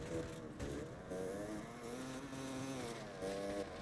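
A motorbike engine in the video game Generation Zero drones loudly and steadily, its harmonic hum shifting slightly in pitch as the throttle varies, with no talk over it.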